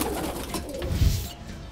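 Pigeons cooing softly in a low, murmuring burble, close by, over steady background noise with no talking.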